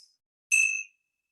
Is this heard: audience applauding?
no